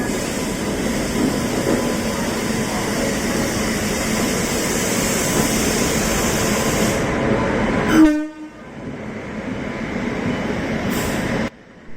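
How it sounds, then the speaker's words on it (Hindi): The Ranchi–New Delhi Garib Rath express rolls into a platform at Kanpur, a loud, steady rumble of railcars giving way to a sudden horn-like burst and a drop to quieter station ambience. "अपनी रांची न्यू दिल्ली गरीब रथ का अराइवल हो रहा है प्लेटफॉर्म नंबर 2 पर।"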